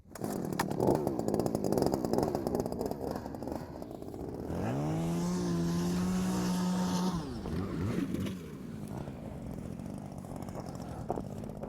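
A gas-powered ice auger drills through frozen lake ice on Mille Lacs Lake, its engine buzzing loudly and revving up and down over several seconds, close by with no talking.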